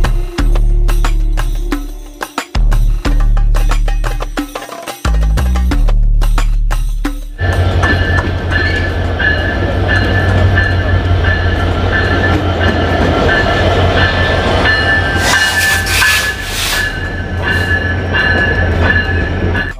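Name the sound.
train arriving at the station platform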